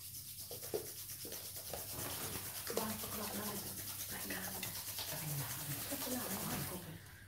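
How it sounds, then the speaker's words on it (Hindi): Both hands rubbed briskly together during a seated yoga routine, a steady dry friction hiss lasting several seconds while an instructor's voice continues over it. "दोनों हाथों को रब कीजिए"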